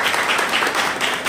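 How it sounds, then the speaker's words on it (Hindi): Audience claps at a Republic Day seminar of revolutionary songs at the Aajeevika Bureau, a brief, dense burst of many hands at a steady level. "एक बार जोरदार तालियां"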